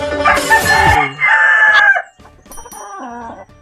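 A young rooster of a native Filipino chicken breed crows close up, one loud drawn-out cock-a-doodle-doo followed by shorter, broken crowing notes, with no other sound around it.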